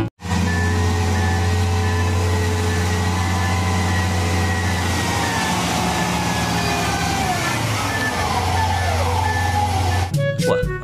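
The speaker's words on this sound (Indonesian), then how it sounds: "Di sini ada truk tambang." A mining truck's engine drones loudly and steadily close by, with a repeating reversing beep pulsing throughout and the pitch shifting near the end.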